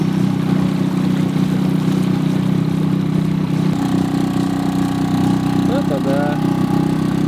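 Outboard motor on a boat drifting down a river on a fishing trip, droning steadily and loud up close while a brief remark is spoken over it.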